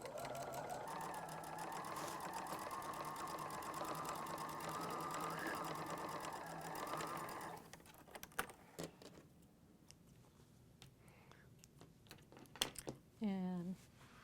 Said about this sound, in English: Take them to my machine and once again sew 1/4 inch, holding my threads back so that they don't get knotted.